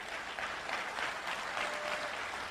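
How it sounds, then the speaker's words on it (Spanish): A convention crowd gives a short, even round of applause, a faint, steady wash of clapping heard at a distance. "un fuerte aplauso"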